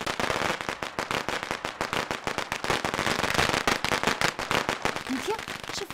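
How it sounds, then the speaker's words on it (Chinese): A string of firecrackers goes off in a home courtyard, a rapid, loud, unbroken volley of sharp cracks lasting several seconds, with faint voices underneath toward the end. "谁在咱家院里放鞭炮啊？"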